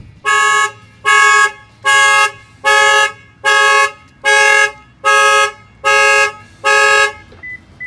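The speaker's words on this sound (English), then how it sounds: "And now I'm going to shut off the alarm." A Lexus IS 250 factory car alarm, set off by banging on the window, blares nine loud, evenly spaced horn honks in a steady rhythm before cutting off.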